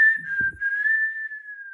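A single sustained whistled tone, steady and close, holding nearly one pitch for under two seconds with a brief soft rustle near the start.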